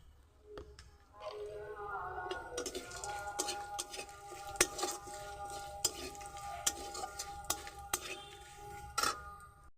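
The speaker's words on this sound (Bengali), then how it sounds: "বড়িটা লাল করে ভাজা হয়ে গেছে" Lentil dumplings (bori) frying in hot oil in a home kitchen, a steady crackling sizzle with scattered sharp pops and spoon clicks, faint bird calls in the background.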